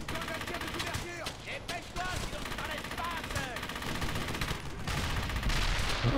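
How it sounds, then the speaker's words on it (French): Cannon and gunfire from the video game Brothers in Arms: Hell's Highway, a dense stretch of repeated shots and blasts that stays loud and busy throughout, with someone talking in French over the battle. "Oh, le canon."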